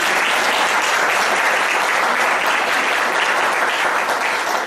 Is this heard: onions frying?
no